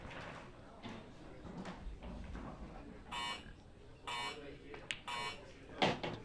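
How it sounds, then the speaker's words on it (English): In a pool match, a shot clock gives several short electronic beeps spaced about a second apart over a quiet hall background with faint movement and soft voices. "You hear the beeps for the final 5 seconds, 15 seconds a shot."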